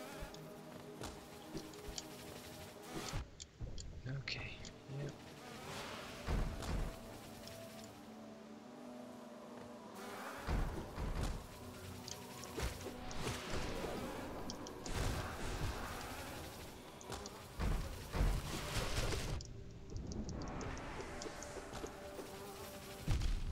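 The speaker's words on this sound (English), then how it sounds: "God, I despise those big bees." Big bees from the video game Hollow Knight buzz and drone through a busy game mix, with swelling insect-like hums rising and falling over steady background music and effects, no talk.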